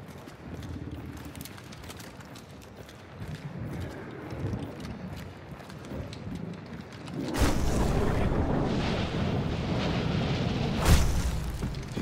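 Gunshots in the game Hunt: Showdown, a string of muffled, distant reports followed by a burst of louder, nearer booming blasts.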